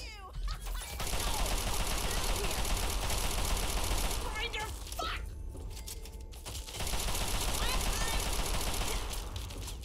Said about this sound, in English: Somebody shooting at us from the ground